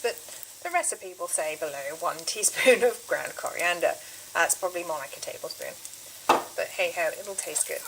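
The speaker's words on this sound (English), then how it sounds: "I'm going to add the chilli at this point as well, just to sizzle the spices." Onions and ground coriander sizzle in a pan for carrot and coriander soup, a steady frying hiss with occasional stirring, heard beneath continuous talking.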